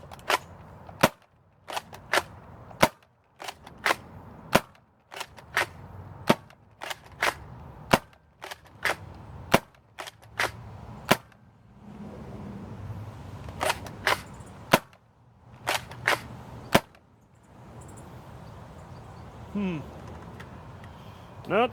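Homemade Kronos shotgun fired again and again outdoors, a sharp cracking report every second or so for the first half. A stretch of rustling and handling follows, then a few more shots spaced unevenly near the end.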